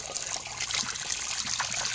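Water trickles and splashes steadily as a freshly caught fish is rinsed, a continuous close, bright running-water sound with no talk.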